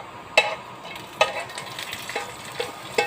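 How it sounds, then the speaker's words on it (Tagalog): Golden-brown garlic hits a pan of frying mung beans, giving a soft steady sizzle with several sharp scraping stirs of a utensil at irregular intervals. "ilalagay natin ngayon yung bawang"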